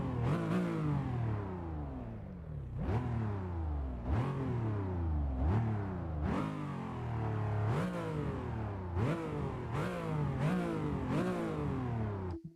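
A turbocharged car engine in the game Test Drive Unlimited 2 revs repeatedly in a steady cycle, each rise climbing then dropping off, with a slightly muffled, smooth tone throughout.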